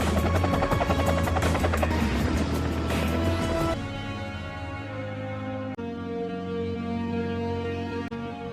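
An ambulance helicopter in a Fast and the Furious film scene gives a steady, loud rotor and turbine roar with rhythmic chopping, easing to a lower hum halfway through, without speech.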